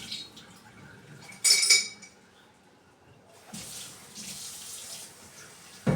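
Tap water runs and splashes into a sink in bursts while a plant's water is being changed, with quieter gaps and light clinks of containers between the flows.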